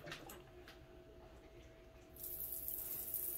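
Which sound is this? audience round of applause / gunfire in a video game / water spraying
water spraying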